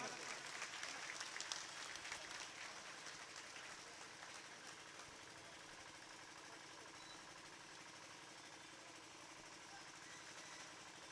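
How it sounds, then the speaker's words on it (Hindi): Faint crowd applause greets an honoree at a Nepal mushaira award ceremony in Biratnagar, denser at the start and then settling into a steady, distant wash with a low machine-like drone underneath. "आप तालियों से स्वागत कर दें।"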